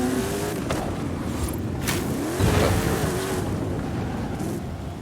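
Car engine in Forza Horizon 5 revving up and accelerating hard, a rising mechanical whine climbing in pitch over a few seconds with a steady loud rumble underneath.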